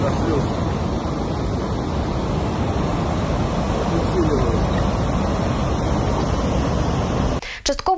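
Floodwater from the breached Belgorod dam rushes in a loud, dense, continuous roar, wind buffeting the microphone, cut off abruptly near the end.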